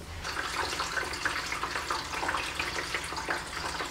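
Water pours into the reservoir of a Letpot hydroponic growing system in a steady, close, gurgling splash that runs unbroken and fairly quiet, with no voices over it.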